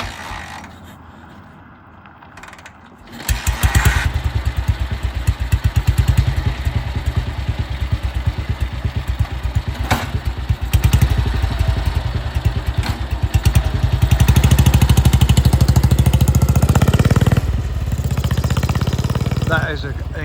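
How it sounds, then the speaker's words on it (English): A 1942 BSA WM20 wartime motorcycle engine starts up and runs with a crisp, steady thumping beat, loud and close, its revs rising and settling over roughly seventeen seconds. "That is an incredibly nice sounding engine."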